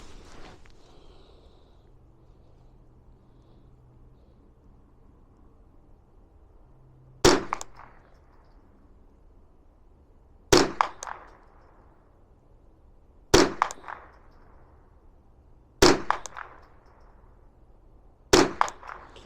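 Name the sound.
gunshots from subsonic rifle ammunition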